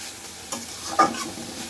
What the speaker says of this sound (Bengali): এই জন্য আমি একটু হালকা একটু নেড়ে ছেড়ে এগুলোকে নামিয়ে ফেলবো